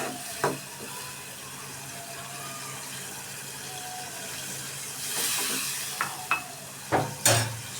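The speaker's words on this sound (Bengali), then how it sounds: "ভালোভাবে নাড়তে থাকবো।" Pumpkin greens with dried shrimp and sliced green chilies are stirred in a pan, a quiet steady sizzle broken by a few sharp utensil knocks and scrapes, louder near the end, with no speech.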